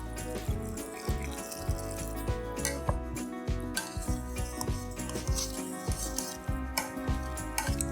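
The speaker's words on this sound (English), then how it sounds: "Now we mash all the potatoes." Potatoes being mashed in a pot with milk and butter: a busy, wet squelching and clinking of the masher against the pan, continuous and close, moderately quiet, without speech.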